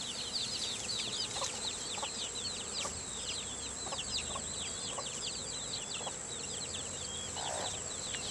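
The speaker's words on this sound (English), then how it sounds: "Another hen. That's all of her chicks." A hen clucks softly beside her chicks outdoors near beehives, with repeated high peeping chirps throughout over a constant insect-like hiss and faint rural background.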